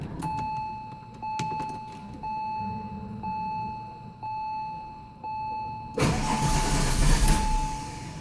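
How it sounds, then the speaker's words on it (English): A Porsche 911 Turbo 996 engine is cranked over several times during an oil change, with a steady chime beeping at a regular pulse before a loud, broadband whir of the turning engine takes over near the end. "first we're going to turn the engine over a few times to circulate the oil"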